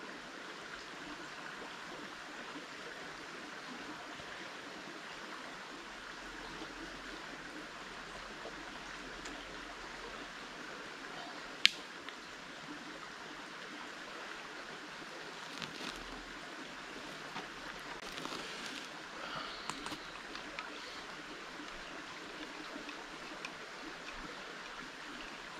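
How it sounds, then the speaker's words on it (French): A river in the Haute-Loire countryside flows with a soft, steady rushing and trickling, faint and distant, with a single sharp click partway through. "écouter le bruit de la rivière"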